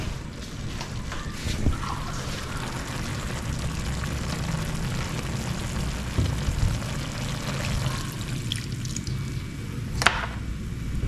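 Water pours steadily into a pot for several seconds, a continuous splashing wash with a brief clink near the end.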